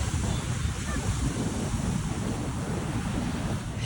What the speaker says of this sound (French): Et là je pense qu'elle se rend compte que c'est des vagues.